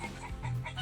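Disturbed chickens cluck and squawk in agitated bursts close by, a short restless flurry of fowl calls around a night spearfishing spot in the Philippines.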